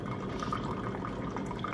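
Coffee is poured and splashes into a cup, giving a soft, continuous trickle with small scattered drips and spatters, fairly quiet and heard alone without talk.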